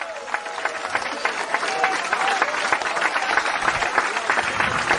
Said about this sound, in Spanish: Denle un aplauso a Cristo, que Él se lo merece.